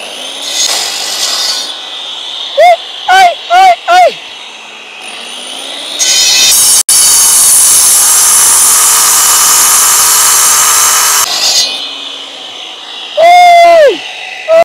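Loud grinding and scraping as a stone block is cut for house construction, with sharp squeaking tool strokes before and after a long continuous harsh rasping stretch, very close and dominant.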